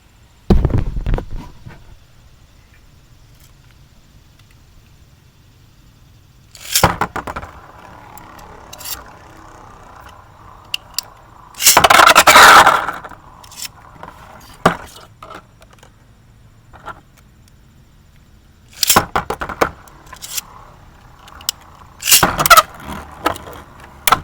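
Lego Beyblades in a test battle, with several loud sharp clattering bursts of plastic tops clashing and skittering, separated by quiet stretches; one longer rattling spell sits in the middle.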